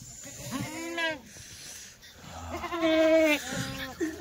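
Kathiawadi goats at a farm sale bleat up close: a long wavering cry, a pause, then two more drawn-out bleats, one overlapping another, over quiet background noise.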